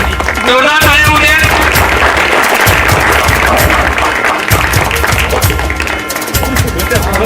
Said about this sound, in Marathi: एक शाळेसाठी एक गावासाठी जोरदार टाळ्या होऊ द्या.